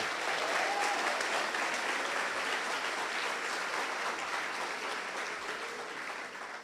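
Church congregation at a Portuguese-language service applauding loudly, a dense, sustained wash of many hands clapping together, steady throughout and easing slightly toward the end.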